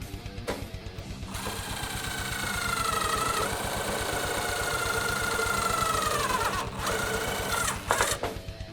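DeWALT DCF888 impact driver driving a screw, a steady mechanical whir with rapid hammering pulses that runs for several seconds, then stops briefly before starting again.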